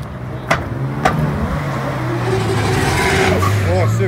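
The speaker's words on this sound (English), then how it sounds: "That's a Ferrari." A Ferrari at a summer car meet in Glasgow, its engine droning steadily and building slightly, with a couple of sharp knocks early on and people talking over the sound.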